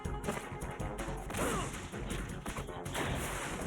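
An explosion goes off in the video game Metal Gear, a dense, loud, roaring burst of crashing noise that churns steadily with no speech over it.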